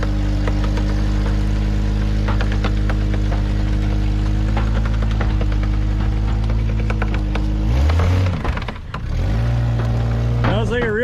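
A Jeep XJ with a broken unibody runs with a loud, steady low engine drone that dips and shifts midway before rising again, with voices heard over it.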